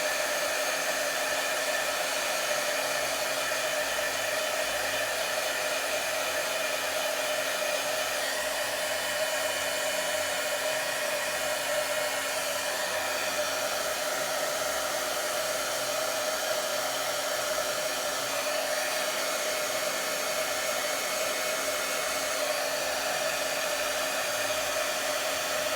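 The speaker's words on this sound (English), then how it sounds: "So I'm using a heat tool to do this." Heat tool drying stamped ink on a card, a steady, unbroken blowing roar close by and at constant loudness for the whole stretch, with no voices.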